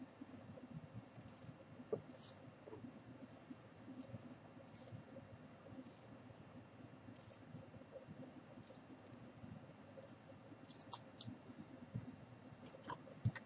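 Small scissors snipping paper or fabric while making a mini coat craft, a series of soft, crisp clicks scattered over a low steady background hum, with a sharper cluster of snips near the end.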